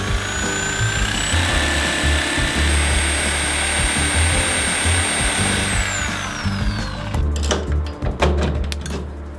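A power tool cuts through a welded-up bolt on a heavy-duty loading ramp being removed from a Mercedes Sprinter van. It makes a loud, steady high whine that holds for about six seconds, then drops away into rough, intermittent grinding bursts.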